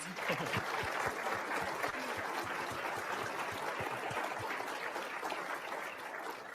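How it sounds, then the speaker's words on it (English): A conference audience at a rural innovation and investment event applauds its panelists, sustained crowd clapping heard from a distance at low volume, even and unbroken. "let's give our panelists a round of applause"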